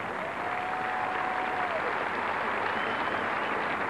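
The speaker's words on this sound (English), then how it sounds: "let's have a warm round of applause for Ellie Robb, David Long, and the children of the Million Crane Project." Audience applause at the 1990 Goodwill Games opening ceremony in Seattle fills a large venue with dense, sustained clapping that holds steady throughout, with a faint brief tone near the start.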